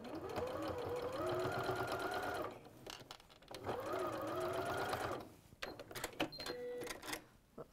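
A sewing machine stitches fabric in two steady bursts of a few seconds each, separated by a short pause, with a lighter clatter and handling noises after the second run.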